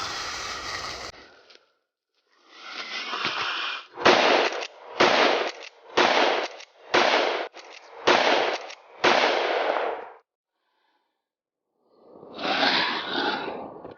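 Gunfire in a zombie-hunting shooter game: a string of about six or seven loud, evenly spaced bursts, followed after a pause by one more burst, with no talking.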